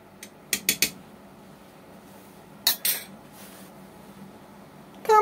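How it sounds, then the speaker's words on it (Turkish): A metal spoon knocks and scrapes against a pot of boiling apricots in a few quick clusters, with a low simmering bubble underneath. "Bir karıştıralım bakalım."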